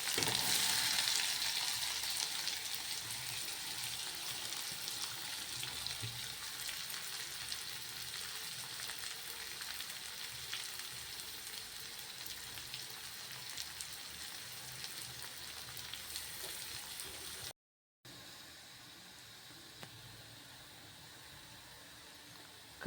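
Chopped onion sizzles with cumin in a pan, a continuous fine crackling fry that eases slightly over time, heard alone with a short silent break near the end.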